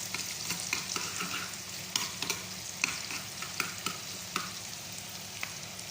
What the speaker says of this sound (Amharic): ለጎመን እያቁላላን ነው።